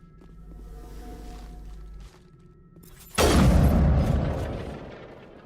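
A sudden loud explosion in the video game Mass Effect bursts after a low rumbling hum, its boom and crackling debris tapering off over a couple of seconds.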